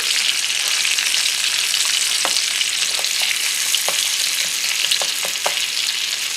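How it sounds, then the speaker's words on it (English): Very thinly sliced onions fry in a pan with a loud, even sizzling hiss, dotted with occasional small pops and crackles and no talking. "we're going to go ahead and take our onions, and we're going to go ahead and fry them babies up"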